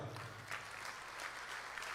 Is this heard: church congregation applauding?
yes